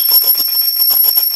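A school class bell rings continuously and loudly up close, with a shrill steady tone over a fast metallic rattling clatter.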